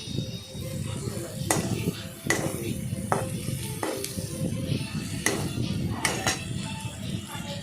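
Ivy gourd (kundru) curry frying and being stirred in a pan: steady close sizzle with repeated scraping, clinking strokes of a spatula at irregular intervals, fairly loud and continuous.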